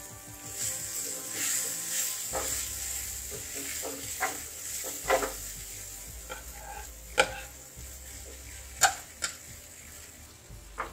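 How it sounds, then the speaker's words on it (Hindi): Poha is stirred into cooked masala in a pan, with irregular scraping strokes of a spoon over a soft, low frying hiss, fairly quiet and with no speech. "फिर तो यहाँ पे मैं पोहा मिला लूंगी"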